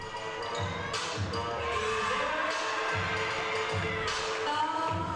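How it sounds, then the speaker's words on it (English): Crowd noise filling a gym at a collegiate gymnastics meet, a steady lively murmur with rhythmic thumping and clapping throughout, broad and continuous. "A lively crowd at that"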